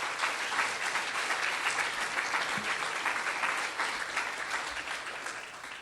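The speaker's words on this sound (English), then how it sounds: "please give yourself a round of applause" Residents and attendees at a city council meeting give a steady round of applause, a dense continuous wash of many hands clapping at even loudness, alone without talk.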